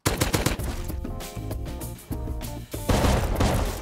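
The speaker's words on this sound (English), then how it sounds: "Why you shoot me?" Rapid bursts of gunfire in the survival video game Rust, loud and close, with dense repeated shots over a game soundtrack, pausing briefly before a heavier volley.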